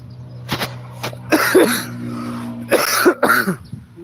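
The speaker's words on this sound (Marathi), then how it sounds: "खोकला पण आहे राव" Several harsh coughs come in short bursts, close to the listener, with quiet pauses between them.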